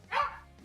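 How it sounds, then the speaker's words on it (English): A single sharp dog bark sounds close by, loud and brief, and then fades into quiet room noise. "can't think when you're barking"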